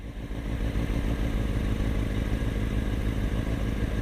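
A superbike engine running steadily up close, its low, throbbing drone holding at a constant level with a slight clattery texture and no talk over it.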